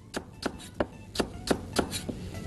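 A knife chops ingredients on a board while preparing Chinese fried tofu, giving about eight crisp, close, evenly spaced strikes in quick rhythm.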